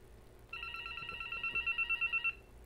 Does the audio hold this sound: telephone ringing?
yes